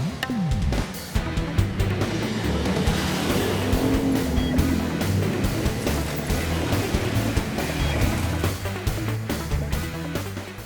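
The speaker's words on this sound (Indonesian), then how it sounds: "Maaf, ada motor lewat." Motorbike passing by on a street near a terminal, a loud engine drone with rumbling low tones that swells and lingers before easing off, heard alone.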